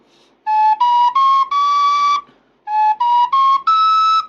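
Two runs of four breathy notes on a Thai flute played with wrong fingering, each phrase stepping upward in pitch and ending on a longer held tone, played close and clear with no talking.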